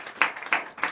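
A few sharp claps in quick succession, like a small burst of hand clapping in a church, fairly close and short.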